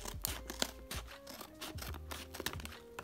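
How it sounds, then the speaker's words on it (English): Scissors snipping open a plastic blind bag holding a paper squishy, several close crinkly cuts and rustles of the wrapper in quick succession with no voice. "And now let's cut open our blind bag."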